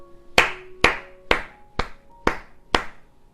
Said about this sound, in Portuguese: Palmas para os primeiros cristãos.